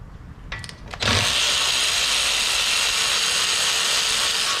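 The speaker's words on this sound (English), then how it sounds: "I've got the box wrench on this side and my little power tool on this side." A small power tool runs in reverse, backing out a bolt on a Ford Escape CV axle: a few faint clicks, then a loud, steady whirring drone that starts about a second in and holds to the end.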